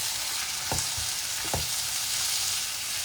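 Tomatoes frying with lightly browned onions in a pan for malai kofta gravy, giving a steady soft sizzle with two brief stirring scrapes, close and moderately loud, no voices.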